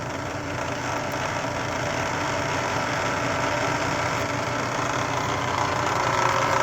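A small 5-inch diameter three-phase axial flux alternator spins steadily under a 9 ohm electrical load, giving a constant mid-pitched mechanical hum and whir with no pauses.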